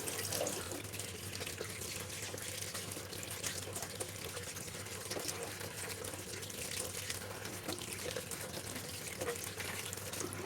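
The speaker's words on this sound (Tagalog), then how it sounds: "Hugasan lang po natin yung spinach." Fresh spinach rinsed under a running kitchen tap: a steady, even rush of water into a sink with soft splashing, moderately close and unbroken throughout.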